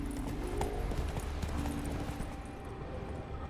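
Hooves of Geralt's horse Roach clip-clop at a trot in The Witcher 3, a steady close rhythm of hoofbeats that eases slightly toward the end.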